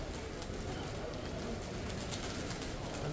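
Pigeons coo amid the steady, dense bustle of Dubrovnik's old town, a continuous outdoor ambience with the birds blended into the background rather than standing out alone.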